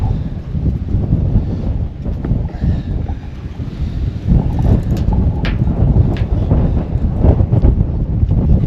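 Strong wind roars and buffets the microphone without pause, a loud low rumble that never lets up.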